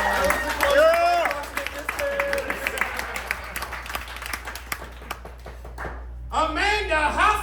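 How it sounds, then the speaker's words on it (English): An improv comedy audience applauds and cheers, with a patter of claps mixed into shouting, excited voices. The clapping thins to scattered claps before a final burst of loud vocal cheering. "give a round of applause."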